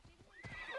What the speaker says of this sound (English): But let's call our horsey.